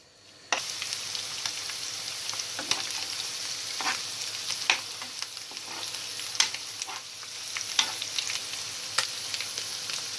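A spoonful of butter melts while being stirred in a pan for a yogurt soup topping, producing a steady close sizzle with frequent light scraping ticks of the utensil.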